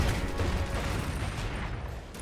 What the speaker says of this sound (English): Somebody's shooting again.